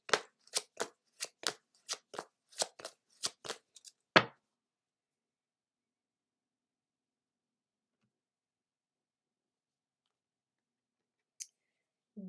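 Riffling shuffle of a Work Your Light oracle card deck, a quick run of about a dozen crisp, close flicks over four seconds ending in a firmer snap, then near silence with a faint click later.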